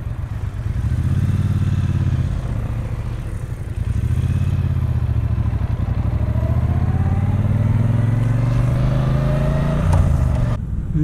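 A 2018 Triumph Bonneville Speedmaster motorcycle being ridden, its engine a loud, steady low rumble with gear changes and rising revs, accompanied by wind noise.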